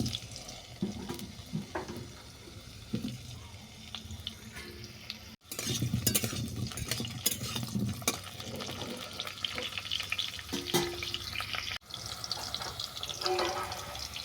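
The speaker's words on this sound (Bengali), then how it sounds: "কড়াইতে তেল দিয়ে আমি আলুটাকে ভেজে নেব।" Potatoes frying in mustard oil in a wok, a steady broadband sizzle with clattering stirs that runs through the clip, briefly cut twice, with no talking.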